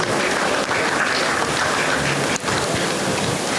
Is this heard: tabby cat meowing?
no